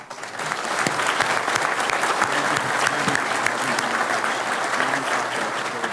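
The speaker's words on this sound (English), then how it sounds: "I want to give them a round of applause." At a VFW national commander's testimony session, an audience breaks into applause for the auxiliary; the clapping rises quickly and stays thick and sustained, with a faint voice underneath.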